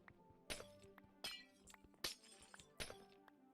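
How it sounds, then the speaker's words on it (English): Glass panes shattering in Minecraft, four separate crisp breaking crashes spaced roughly evenly apart, each a bright burst of tinkling shards that quickly fades, with no talking. "the glass breaking noise is not fun"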